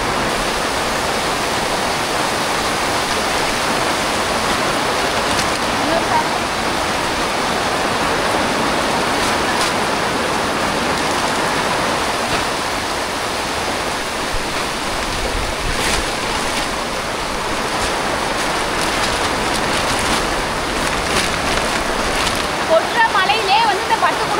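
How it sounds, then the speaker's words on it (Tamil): Heavy rain pours down steadily and close by, a dense continuous wash of hiss and splatter with no letup, falling during a downpour while Diwali gift packs are being sorted outdoors. "மழை கடுமையாக பெய்யுது"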